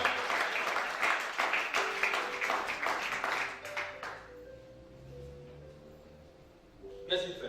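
A church congregation claps and cheers in acclaim, with dense applause for about four seconds that then fades, under a preacher's French speech and with sustained musical tones behind it.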